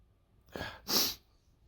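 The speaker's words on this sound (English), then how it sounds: "About to sneeze." A single person sneezes close by, with a soft in-breath and then a sharp, hissy burst, all in an otherwise quiet room.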